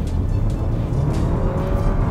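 A 2022 Porsche Macan with its engine in sport mode and a 7-speed PDK gearbox, giving a steady, loud engine drone from inside the car with no talk.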